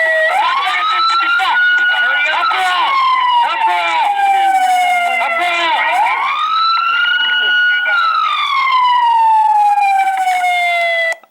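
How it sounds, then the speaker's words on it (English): A police siren wails loud and close, its rising and falling tone sweeping up and down again and again with no break for the whole stretch. "I would turn down a siren, but I want it to irritate you like it irritates me"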